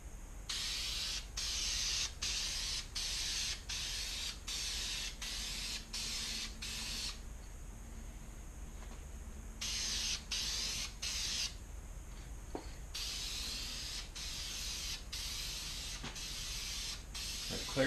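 VHT Night Shades clear coat hisses from a spray can in repeated short bursts of varying length, close and fairly faint, separated by quiet gaps.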